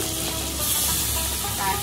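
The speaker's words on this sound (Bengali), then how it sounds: "এখন কড়াইতে চিংড়ি মাছ দিয়ে দিই। চিংড়ি মাছটা ভেজে" Prawns fry in hot oil in a wok, a dense steady sizzling hiss heard up close for a brief moment.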